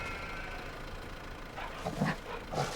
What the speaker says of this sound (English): There's a dog.